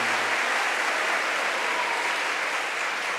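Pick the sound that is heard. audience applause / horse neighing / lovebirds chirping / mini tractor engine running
audience applause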